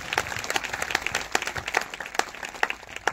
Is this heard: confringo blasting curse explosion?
no